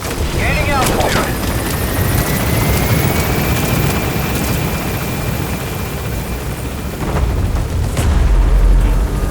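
A helicopter lifts off and climbs in Metal Gear Solid V: The Phantom Pain, its rotor wash a loud, dense, continuous roar with a deeper surge near the end.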